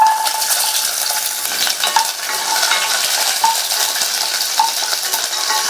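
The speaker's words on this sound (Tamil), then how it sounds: "சின்ன வெங்காயத்தை லைட்டா வதக்கி விட்டுட்டு" Small onions sautéing in hot oil with mustard seeds and fenugreek, a steady bright crackle and sizzle that holds throughout, with a few light clinks of a spoon against the pan.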